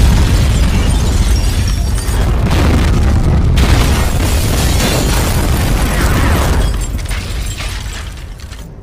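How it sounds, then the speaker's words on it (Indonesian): A car explodes at a petrol station with a loud blast that bursts into a sustained roaring fire, rumbling on for several seconds before slowly fading away. "mobil yang ditumpangi langsung meledak seketika."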